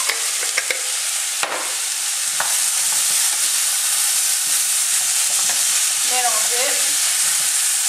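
Saffron stirred into a butternut squash curry in a pot, with a loud continuous sizzle and a few sharp clicks and scrapes of the spoon early on.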